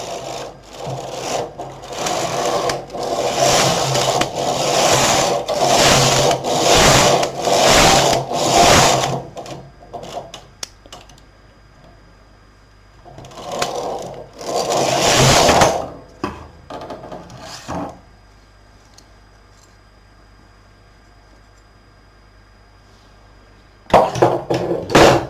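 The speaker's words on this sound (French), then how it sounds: "Et on va tricoter quelques rangs fil perdu sur les 24 aiguilles." A L450 knitting machine working rows of waste yarn across 24 needles, loud rhythmic mechanical rattling carriage passes in several bursts separated by quiet gaps, with a final burst at the end, close and with no talking.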